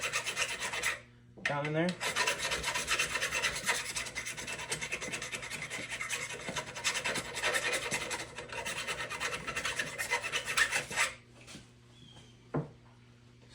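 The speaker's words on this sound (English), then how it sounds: "take you a small file and just clean up that edge" A small hand file rasps steadily across a metal edge on a demolition derby car steering column, giving a loud, continuous scraping stroke that lasts about ten seconds, followed by a few quiet knocks and a brief spoken phrase.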